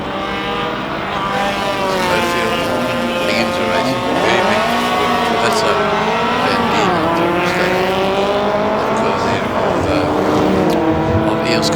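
A 1989 Shelby Nissan Can-Am race car at a hillclimb, its engine revving loud and close through rising and falling gear changes, with tire squeal and commentary talk running over it.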